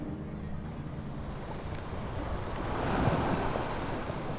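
Ocean waves roll and wash continuously around a remote island, with wind rushing across the microphone and the surf swelling slightly louder midway.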